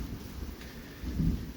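Thunderstorm outside, with overhead electric lines nearby: a low, distant rumble of thunder rolls under a steady hiss of rain, with no talking.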